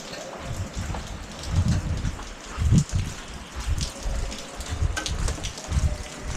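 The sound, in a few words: rain falling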